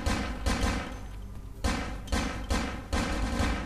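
A lousy handgun fired by the player in Vampire: The Masquerade Bloodlines, shot after shot in an uneven rhythm of about six sharp, loud reports with brief gaps, no voices present.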